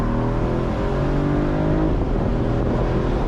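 A Mercedes CLE 450 Cabriolet AMG six-cylinder engine pulls hard through tight corners, a steady close-up drone with layered engine harmonics that rises gently, loud and continuous with no talking.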